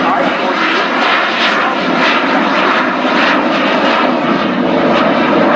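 A fixed-wing aircraft's engine runs at idle at a Royal International Air Tattoo air show at RAF Fairford, giving a steady, loud broadband drone throughout, with a public-address announcer talking over it.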